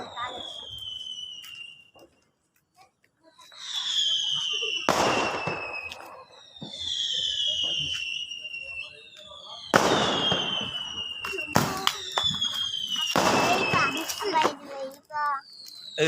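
Diwali firecrackers burst in a series of loud bangs and whistling, crackling explosions, several in quick succession with short gaps between them, while children's voices are faintly heard.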